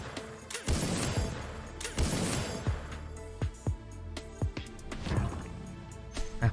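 Repeated gunshots from the sniper feature of the Dead Riders Trail slot game, sharp cracks scattered irregularly over layered game music and effects, with no talk.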